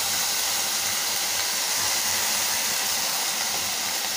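Broad, steady sizzling hiss of finely ground broad beans being stir-fried in a hot pan for a Mahalaya Amavasai poriyal, continuous and fairly loud with no talk.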